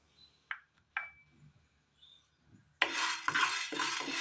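About two teaspoons of black peppercorns go into a hot pan on the stove: a few light metallic clinks, then a sudden dry rattling rush as the peppercorns hit and scatter across the metal.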